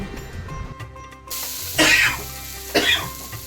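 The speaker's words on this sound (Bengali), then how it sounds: "হাসতে গিয়ে কাশি উঠে যাচ্ছে।" A person coughs twice in a kitchen, sharp loud bursts separated by about a second, over a low background hum and faint sizzling.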